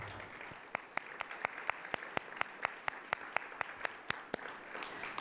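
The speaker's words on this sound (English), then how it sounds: "So let's give all of them a round of applause." Audience at a Columbus Metropolitan Club forum giving a round of applause, a fairly thin, moderately distant clapping wash with a few sharp, evenly spaced nearby claps standing out above it.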